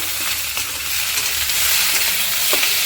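Fried potatoes and taro stems are stirred in a pan, a continuous bright sizzle with occasional scrapes and clinks of the spatula against the metal.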